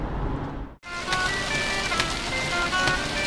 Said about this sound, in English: Well, it's raining kind of hard.